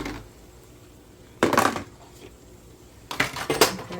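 Eggs being scooped into a bowl: two clusters of clattering, scraping utensil-on-dish knocks, close and fairly loud, separated by a quiet pause.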